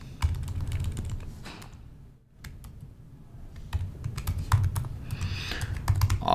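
Typing on a computer keyboard: a close, fast patter of key clicks that stops briefly and then picks up again, over a low background hum, with no speech.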